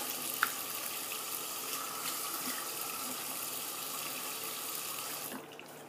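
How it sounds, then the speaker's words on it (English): Water runs steadily from a tap into a sink while a face is rinsed after a shave, a close, even rush that stops abruptly near the end, with no voices. "I'm going to rinse my face off here real quick."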